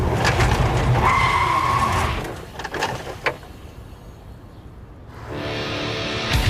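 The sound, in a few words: car braking hard to a stop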